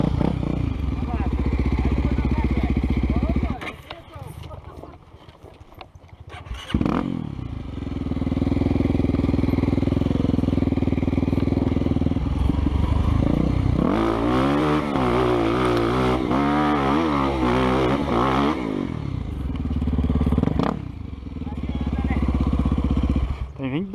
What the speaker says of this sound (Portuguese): E aí tenta segurar a moto.